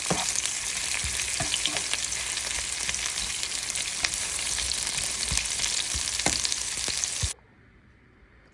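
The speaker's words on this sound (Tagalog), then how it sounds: "Maggisa muna tayo ng bawang." Garlic sautés in hot oil in a pan with a steady, moderately loud sizzle and scattered stirring taps, then the frying abruptly cuts to near silence at the end.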